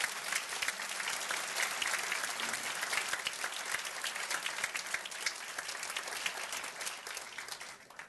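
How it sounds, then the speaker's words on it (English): An audience at a New Rochelle State of the City address gives a sustained round of applause, steady dense clapping heard from a distance and fairly quiet, with no voices over it. "Please, let's give them a big round of applause."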